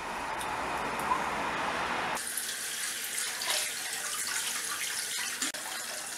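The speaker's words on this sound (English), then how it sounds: "I decided to flush my bearings in water." Sandy skateboard bearings are rinsed under a running tap, a steady splashing gush that shifts abruptly to a brighter, hissing spray partway through.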